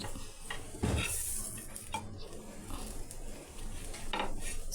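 Bread being flipped in a pan for a corn sandwich. A spatula clinks and scrapes against the metal pan with short clattering knocks over a faint steady sizzle.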